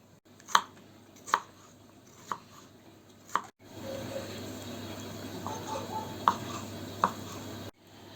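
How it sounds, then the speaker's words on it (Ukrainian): Knife chopping on a board, several distinct sharp taps spaced about a second apart, then a steadier background hum with a couple more cuts. "Усе нарізаємо дрібненько."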